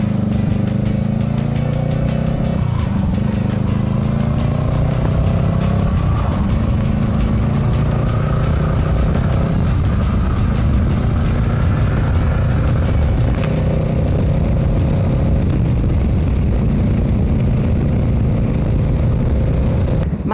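A Honda Rebel 500 motorcycle ridden along a fast road gives a loud, continuous engine drone mixed with heavy wind rush throughout, with no talking.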